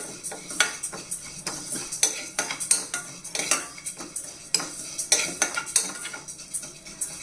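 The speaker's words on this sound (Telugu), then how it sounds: "ఇలాగ కలుపుతూ ఎర్రగా వేగించాలి" Spatula and pan clatter as ingredients are stirred and fried until reddish, with a faint sizzle beneath repeated sharp metallic scrapes and knocks close by, no talking.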